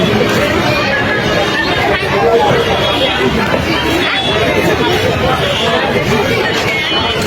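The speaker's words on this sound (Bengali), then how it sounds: "আপনারা দেখতে পাচ্ছেন উৎসুক জনতার ভিড়।" A dense crowd of curious onlookers chatters and murmurs continuously, a steady close hubbub of overlapping voices with no pauses.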